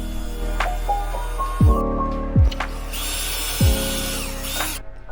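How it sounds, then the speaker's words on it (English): Close power drill whirring in short bursts, each with a downward pitch sweep as the motor loads, three pulses over a steady background hum. "Drill a hole for the reinforcements."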